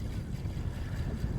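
Strong wind gusts across a creek during a fishing trip, a steady low roar and rumble buffeting the microphone, continuous and fairly loud with no talking.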